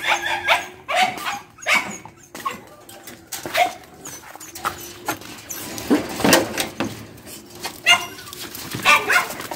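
Several dogs barking, yipping and whimpering as they are let out to play, with bursts of barks and whines rising and falling in an uneven rhythm, fairly close, without talk.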